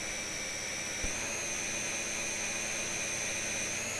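A model aerobatic aircraft hovers under throttle, its engine giving a steady, high, whining drone with sustained tones and a brief thump near the start, no voices.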